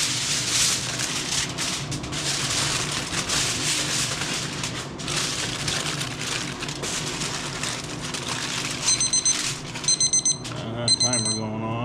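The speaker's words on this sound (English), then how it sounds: "Timer going off." A kitchen timer beeps in short repeated bursts near the end, cutting through steady background noise while pork butt is prepared with Kerrygold butter and apple juice for smoking.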